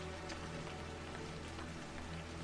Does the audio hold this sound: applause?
no